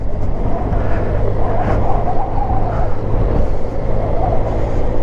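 A Benelli TRK 502 motorcycle runs off-road with a steady, loud engine drone and low rumble, close and continuous, mixed with rough wind and terrain noise throughout.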